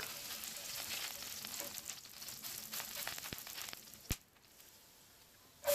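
Olive oil with garlic cloves and chopped vegetables sizzling in a pan for a homemade chicken pie, a steady soft frying hiss with a couple of sharp clanks near the end.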